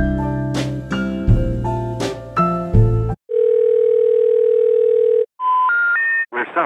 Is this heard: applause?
no